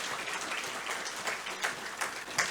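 A big round of applause at the Brockville Chamber of Commerce Awards of Excellence Gala, dense continuous clapping from a large audience filling the room at moderate loudness.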